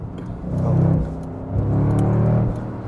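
A Mercedes CLS 55 AMG with a 500 hp engine accelerates hard in two loud, deep revving surges separated by a brief dip. The engine is close and dominant, with no talk.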